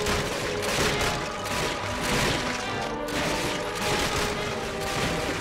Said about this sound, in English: I apologize for shooting at you!